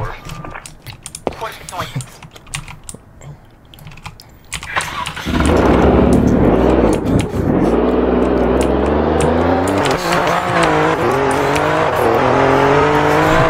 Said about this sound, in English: let's take the bad boy to hear how fast this car can go